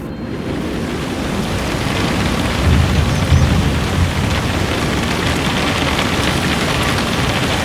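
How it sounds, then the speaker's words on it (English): Heavy rain pours down in a loud, constant roar, with a low rumble of thunder rolling in partway through. No voices. "a terrible storm broke out"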